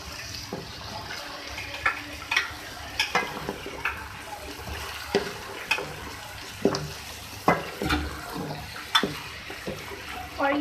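Tomatoes frying in a pan with a soft sizzle, punctuated by repeated scraping and stirring knocks at an irregular pace.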